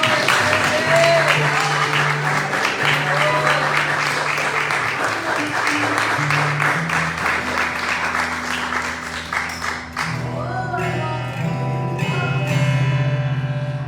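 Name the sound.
church congregation applause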